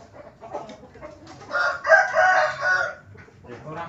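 Chickens suffering from a snoring respiratory illness cluck and crow near the mic, a louder burst of calls in the middle of the stretch with quieter clucking before and after.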